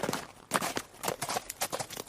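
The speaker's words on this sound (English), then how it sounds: "Once again, a little bit after 3, they hear a horse pull up." Hooves of a big horse, ridden by a soldier, clip-clop in an uneven rhythm as it pulls up, several sharp strikes fairly close over about two seconds with no talk.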